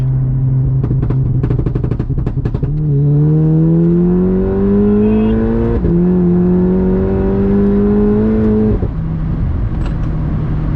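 Tuned 612 bhp VW Golf R pulling hard from a rolling launch, a loud engine note that climbs steadily through two gear changes with brief dips between them, heard from inside the car without talk.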